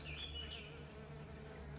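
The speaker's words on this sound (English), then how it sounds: "hear the buzzing?" Bees buzz around a nest in an old stone wall beside a church walkway: a dense, continuous drone of many insects close by, with a few louder passes, no voices.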